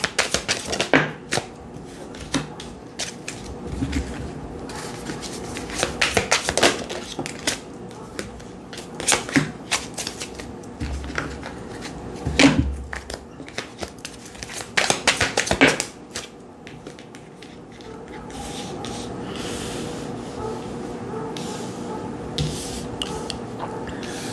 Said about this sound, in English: I just break up my deck and it's 160 cards